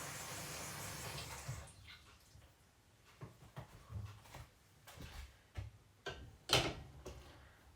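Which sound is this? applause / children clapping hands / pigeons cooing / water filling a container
water filling a container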